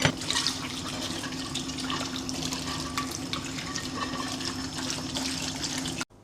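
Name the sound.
washing dishes in the kitchen sink with running water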